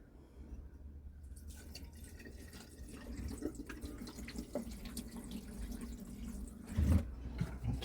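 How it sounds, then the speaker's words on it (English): Liquid is poured into the shower drain of a Coachmen Beyond RV during winterizing, a steady trickling and splashing that builds gradually and stays close and fairly faint with no talk. "we're going to pour some in the shower drain"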